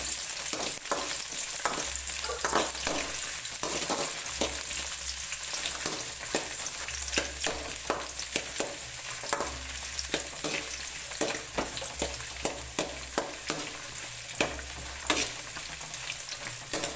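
Onions sautéing in a hot pan for spicy tomato chutney give a steady, close sizzle and crackle, broken by frequent clinks and scrapes of stirring throughout, with no talk.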